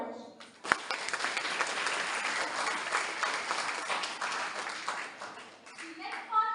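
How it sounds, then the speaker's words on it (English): Audience applauding at an inter-school English elocution contest, steady clapping from a hall crowd that swells after a sharp opening clap and carries on for several seconds before easing, with a voice starting at the end. "Please welcome him with a huge round of applause."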